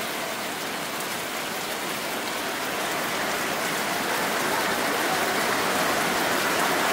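Heavy downpour of rain in a countryside setting, a dense, steady hiss of water pouring down that builds slightly louder over the seven seconds, with no voices.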